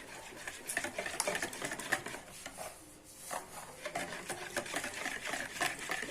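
A batter of yogurt and melted margarine is stirred in a bowl, giving a continuous, close scraping and rubbing with quick, uneven strokes, briefly easing off midway before picking back up, with no voices.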